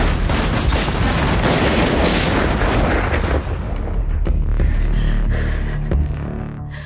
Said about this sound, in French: On se fait tirer dessus !